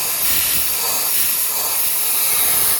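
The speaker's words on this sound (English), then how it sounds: "use a blow gun" Compressed-air blow gun blasting out the push rod holes of a 6.0 Powerstroke diesel engine, a loud steady hiss that runs unbroken for about three seconds, then cuts off abruptly.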